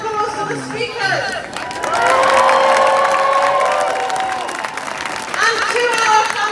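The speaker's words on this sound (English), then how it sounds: "can I ask you to give a huge round of applause for the speakers?" Crowd at a pro-Palestinian protest in Leeds breaking into loud sustained applause and cheering outdoors, dense clapping and whoops that swell, dip and rise again, with voices shouting through it.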